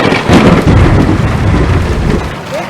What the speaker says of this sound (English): right after the lightning bolt, you have another sound of thunder coming